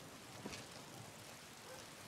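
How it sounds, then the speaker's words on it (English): Steady rain falls in a snowy-region game world of Skyrim modded with Wildlander, a faint, even hiss of drops with no clear rhythm, soft and continuous throughout. "Oh, it's raining."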